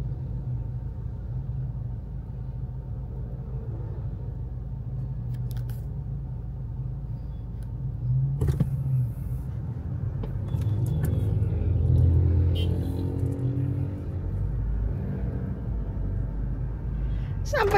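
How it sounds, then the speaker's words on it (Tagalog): Road traffic rumbles steadily with car engines idling and passing, loud and close, a sharp knock partway through and engine noise swelling near the end, while people talk over it. "Traffic."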